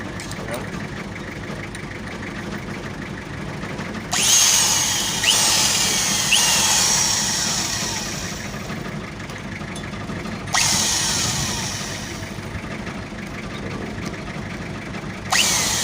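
A hand drill with a 4.3 millimeter bit whirs in bursts into a broken metal bolt, starting loud around four seconds and again near eleven, with steady mechanical hum and some talk beneath.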